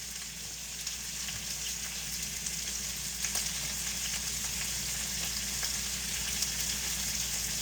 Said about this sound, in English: You're gonna get a nice good sear on these.